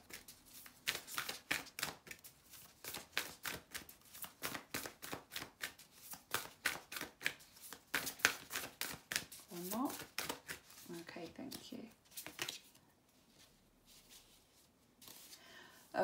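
A Moonology manifestation card deck being shuffled close up, a steady run of rapid riffling card flutters that stops partway through, followed by quieter handling, with a voice speaking briefly in the middle.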